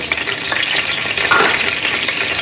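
Whole cardamom pods, bay leaves, cinnamon sticks, black peppercorns and cloves sizzle steadily in hot oil for a beef and chana dal curry, a loud, continuous frying hiss with faint stirring scrapes and no voices.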